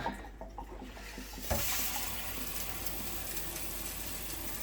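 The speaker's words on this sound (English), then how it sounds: "a little bit of tap water first, because you don't want to pour boiling hot water straight into it, because you might crack it." Tap water running into a Pinter beer brewer for cleaning, starting as a faint trickle and then surging into a steady, close rushing stream that continues to the end.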